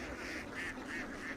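A flock of ducks foraging in a harvested farm field, eating golden apple snails and leftover dry stubble, making faint, distant honking quacks in a steady rhythm against a constant outdoor background.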